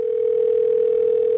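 A telephone tone sounds over speakerphone as one steady, unbroken electronic hum, loud and alone.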